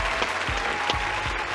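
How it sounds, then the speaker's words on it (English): An audience applauds a guest on a talk show, a short burst of dense, steady clapping close by without speech. "Let's clap it in for this queen real quick"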